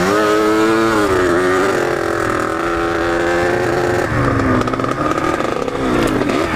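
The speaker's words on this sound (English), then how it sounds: "I like the sound of two strokes," A two-stroke dirt bike engine revs steadily while riding, loud and close with a buzzy, rising and falling whine through gear changes, no talking over it.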